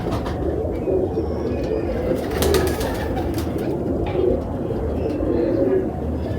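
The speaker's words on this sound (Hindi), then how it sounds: "बरीक नलियां दे कबूतर।" Pigeons with open, fine feet and slender legs coo repeatedly in a loft, a steady low murmuring of several birds close by, with brief rustles and faint chirps mixed in.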